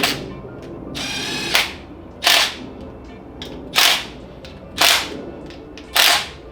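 A ratchet tightening bolts on an LS engine going into a Miata, one long clicking run followed by five evenly spaced sharp bursts of ratcheting, loud and close with no talk.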